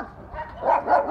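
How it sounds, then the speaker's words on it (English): Dogs bark and yip in rough, overlapping bursts at middle distance, growing louder toward the end, with no talk over them. "Go over there and get them two dogs' attention off each other."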